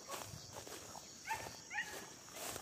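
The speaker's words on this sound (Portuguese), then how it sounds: "Ó a cadelinha, galera" A small female dog gives two brief high whimpering yelps over steady background noise, with soft rustling and footsteps around them.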